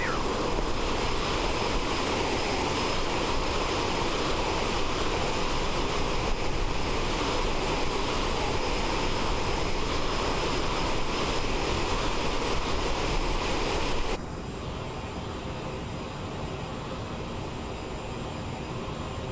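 Steady, loud jet engine roar from an Aerosoft Bombardier CRJ-700 airliner in Microsoft Flight Simulator, a continuous broadband whine that drops to a lower, quieter hum near the end.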